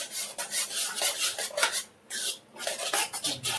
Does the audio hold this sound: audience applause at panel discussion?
no